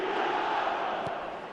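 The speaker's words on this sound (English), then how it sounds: "The crowd are calling for this to be put to bed." A stadium crowd in the eFootball video game roars and chants in a steady, dense wash of voices, fairly faint, without pause.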